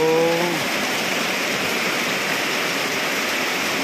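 Steady roar of rough sea waves mixed with heavy rain, loud and continuous throughout, after a brief tonal sound at the very start.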